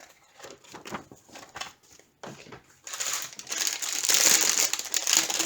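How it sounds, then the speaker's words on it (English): Plastic packaging around dog keychains being handled, giving sharp intermittent crinkles that build into a denser, louder rustle toward the end, close to the microphone with no speech. "Sorry for the crinkling. It's these keychains here."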